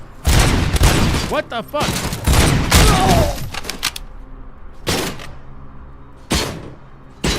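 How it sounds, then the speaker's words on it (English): Gunfire and booming impacts in the RoboCop video game on PS5, heavy and close, arriving in dense bursts and then scattered single blasts, with a man swearing briefly over the barrage. "Who's shooting me?"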